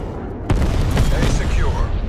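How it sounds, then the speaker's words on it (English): Video game napalm strike explosion: a sudden heavy boom hits about half a second in, then a loud sustained rumbling roar continues to the end, with voices talking over it. "napalm strike inbound"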